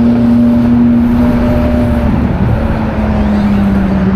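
Ferrari sports cars rumble with a steady, loud engine drone and a low humming tone that holds throughout, with no voices.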